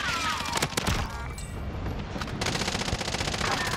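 Rapid automatic gunfire in the Warzone battle royale video game, dense bursts of shots rattling continuously with brief pauses, loud and close, some scattered distant cracks.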